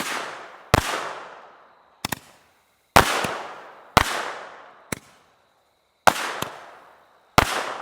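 A firework assortment goes off in a series of loud, sharp reports, about eight bangs spaced irregularly, each cracking close by and then trailing into brief crackle and echo, with no talking.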